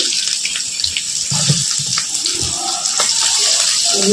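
Chopped garlic and onion frying in pure mustard oil give a steady, bright hissing sizzle that runs throughout, with soft clinks and stirring knocks underneath.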